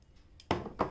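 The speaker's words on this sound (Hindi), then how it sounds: "अब यहाँ से हमें ये टू एंड हाफ इंच पे कट करनी है" Scissors cut through fabric strips for a homemade newborn diaper, two short, crisp snips heard close up in a quiet room.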